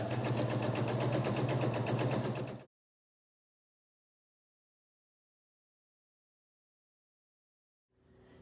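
A sewing machine stitches a quilt strip set for a miniature quilt, running loud and steady for a couple of seconds, then falling silent before starting up again as the next strip feeds through.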